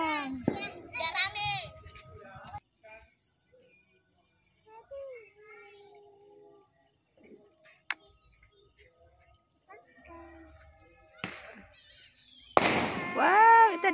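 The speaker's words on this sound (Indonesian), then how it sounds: "Wow, itu ada hidup kembang api" Fireworks pop and crackle at a distance, with a sharp louder burst near the end, while children's voices chatter and exclaim throughout.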